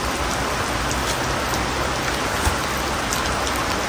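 Heavy rain pours down steadily in a dense, even hiss, a downpour at a graveside outdoors, close and loud throughout with no voices.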